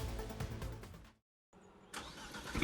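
Alpine A110 sports car engine in sport mode, a loud mid-range rumble that cuts out briefly to near silence, then returns and swells as the revs climb at the end.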